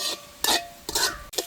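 Leek curry being stirred in a cooking pan, with about four distinct scraping, swishing strokes spaced roughly evenly apart, close and fairly loud over a faint background.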